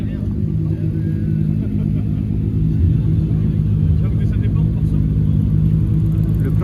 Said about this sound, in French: On a aussi une 992 GT3 qui est en train de partir avec une Cayman GT4.